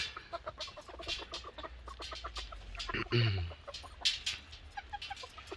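Guineafowl cluck in short, scattered calls amid outdoor background noise, with one louder call partway through; no talking.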